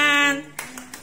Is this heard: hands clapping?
yes